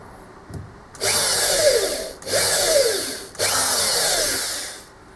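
Little divots being drilled into steel key stock for the gib screws of a lathe carriage casting. The drill makes three close, loud bursts, each lasting about a second, separated by short pauses.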